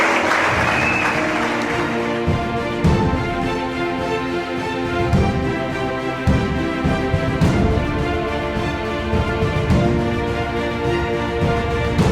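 A church congregation applauding in praise during a Sunday service, a loud sustained wash of clapping from many people that lasts the whole stretch, with tonal sound humming faintly underneath.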